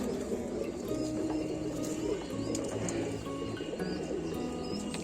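Domestic high-flying pigeons cooing close by in soft, repeated low calls, with occasional chirps and light rustling around them.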